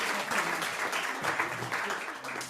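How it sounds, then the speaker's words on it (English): An event audience claps together, a dense, moderately loud patter of hands with a few low voices murmuring underneath, holding steady for a couple of seconds. "let's clap for Arizona."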